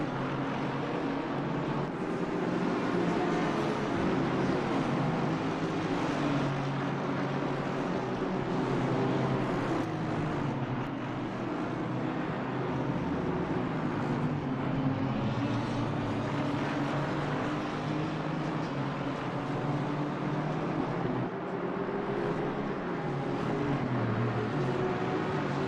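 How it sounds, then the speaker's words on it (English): A big jet aircraft passing low over a house nearby, a loud, steady broadband roar that holds for the whole stretch with no voices. "there's a big jet flying over my house somewhere close by."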